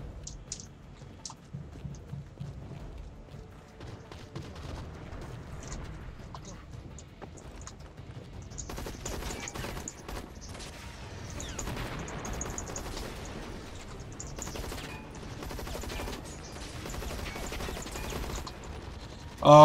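An M249 LMG firing in bursts and reloading with mechanical clicks in the Zombies, Monsters and Robots shooter game, heavy gunfire rattling beneath someone talking, fairly faint overall.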